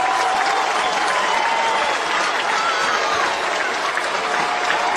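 A baseball stadium crowd of about 5,400 roars and claps as a manager kicks dirt over home plate after an ejection, a loud, unbroken wash of cheering and whistling that holds steady throughout.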